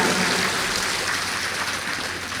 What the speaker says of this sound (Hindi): बहुत अच्छा, ताली बजाएं